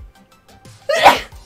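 A single sharp, loud sneeze bursts out close to the microphone during a quiet moment at a game night, preceded by a short intake of breath.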